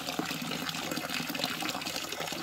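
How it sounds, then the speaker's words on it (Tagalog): Clean water pours steadily into a farm water tank with a continuous rushing, splashing gush, close and unbroken, with no talk. "palitan natin siya ng mas malinis pang tubig para makita natin kung nalinis na ba siya o hindi pa"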